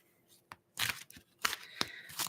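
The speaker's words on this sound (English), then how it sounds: "I shuffle the cards" Tarot cards being shuffled by hand, giving a few short papery riffles and soft slaps in separate bursts, close and quiet, with no talking.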